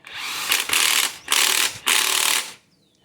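Power tool torquing down bolts on a Spartan Locker in a Toyota 8-inch differential, four loud bursts of buzzing, ratcheting mechanical whir separated by short pauses, close up, then stopping.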